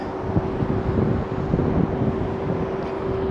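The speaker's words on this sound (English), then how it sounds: "it's really windy out." Strong wind in Box Canyon buffets the microphone in a steady broadband roar with gusty swells, continuous and loud throughout, with a faint low hum underneath.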